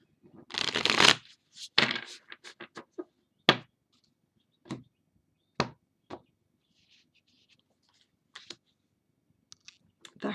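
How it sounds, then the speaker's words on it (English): Crisp riffling of a tarot card deck being shuffled, a dense burst at first, then a series of separate flicks and taps spaced out, close and fairly quiet. "So I'll shuffle one time and then I'll split and then we'll do it."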